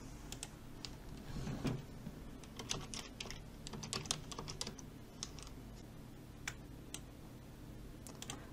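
Fingers tap out an e-mail address and password on a computer keyboard, a quick uneven patter of close key clicks in bursts with short pauses, no voices.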